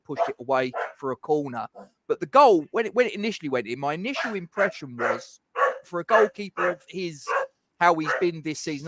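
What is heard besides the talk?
dog barking in the background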